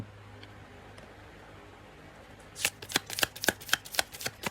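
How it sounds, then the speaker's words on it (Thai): A deck of tarot cards is riffled and shuffled after a quiet pause, producing a rapid run of crisp flicking snaps that continue to the end with no voices. "เดี๋ยวผมจะสับไพ่นะครับ"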